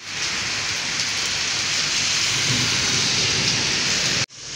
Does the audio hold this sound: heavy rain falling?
yes